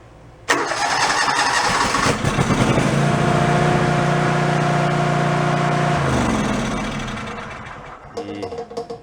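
A John Deere lawn tractor engine, just repaired after flooding, kicks to life and runs loud and steady at full throttle with no choke for several seconds, then its drone sags and winds down near the end.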